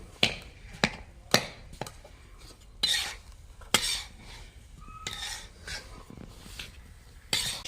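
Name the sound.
mixing khoya and semolina in a kadhai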